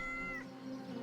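A cat gives one short, quiet meow in the video game Yes, Your Grace, a brief rising then falling cry lasting under half a second with soft game ambience behind it.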